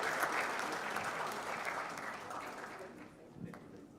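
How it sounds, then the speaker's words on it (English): An audience at a pensions conference in Mombasa breaks into sustained applause, steady and dense throughout, gradually tapering slightly toward the end. "Let's also clap. Let's clap."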